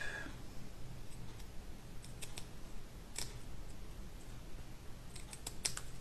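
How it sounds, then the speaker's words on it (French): Scissors snipping through card during a card-making session, a few sparse, soft, close clicks and snips over a quiet room hiss. "s'il veut pas, on va couper au ciseau"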